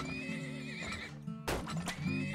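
Horses neigh and whinny in the video game Turmoil, several loud whinnies close by with hoof clip-clop underneath and game background sounds throughout.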